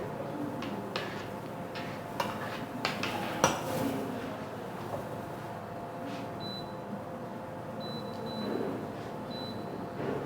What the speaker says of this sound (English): I'm now going to stir it to cook